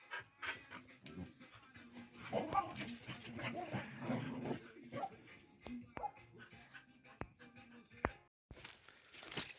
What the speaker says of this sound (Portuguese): Os cachorros latindo pra trás